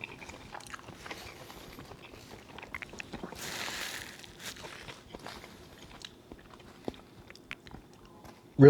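Biting into a hard-shell carne asada taco with salsa and guacamole, crisp crunches and soft chewing sounds repeat close to the mic, with a louder crackle near the end.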